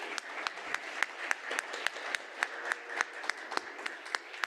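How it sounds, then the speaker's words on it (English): A modest audience at a federal AI and data summit claps for a panel, with distinct, fairly evenly spaced hand claps, light and close, and no talking over it. "Let's give them one final round of applause here"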